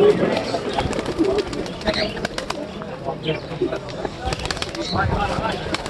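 Pigeons coo softly in the background at the Halkalı bird market in Istanbul, amid wing flutters and scattered bird sounds, with people talking nearby.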